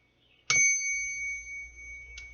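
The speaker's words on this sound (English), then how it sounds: "Let's go ahead and ring this bell." A singing bowl is struck once, giving a bright sharp onset followed by a long, pure sustained ring that slowly fades, with a faint second touch near the end.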